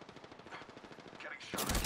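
Incoming gunfire strikes the player in an Apex Legends-style shooter, a fast stuttering burst of shots at moderate volume ending in a sudden sharp louder impact.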